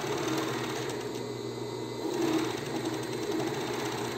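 A sewing machine stitches a bikini with a steady, close mechanical whir and rapid needle clatter, running continuously and without talk.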